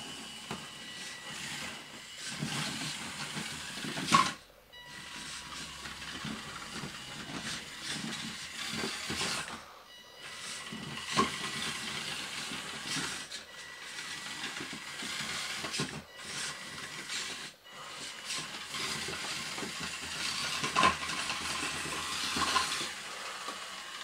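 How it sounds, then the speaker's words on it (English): Six-motor, six-wheel model Volvo A40D articulated hauler, wired to a single motor driver, driving and climbing a ramp: a steady electric whirr and buzz with several brief dropouts. "now I have all six motors on, I have the six wheels on, and everything is wired up to a single motor driver"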